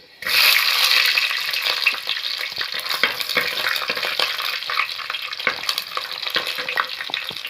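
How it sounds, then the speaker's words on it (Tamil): Fenugreek seeds and garlic fry in hot oil for a stingray curry, a loud sizzle bursting in at the start and settling into a steady crackling hiss with occasional stirring clicks; no speech. "எண்ணெய் சூடானதும் வெந்தயம் போடலாம் வெந்தயம் பொரிஞ்சதுக்கப்புறம் பூண்டு"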